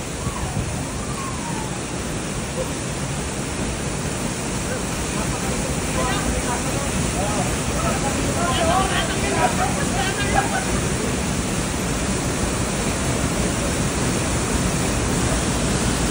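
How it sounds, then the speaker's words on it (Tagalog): Rushing water from a nearby waterfall roars in a constant, loud wash for the whole stretch, with faint voices briefly audible beneath it midway. "Ayun, naririnig nyo yung lagaslas."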